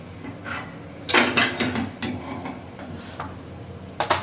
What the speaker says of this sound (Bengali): কড়াইটা বসিয়ে দেবো